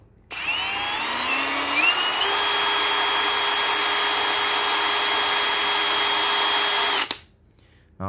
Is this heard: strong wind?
no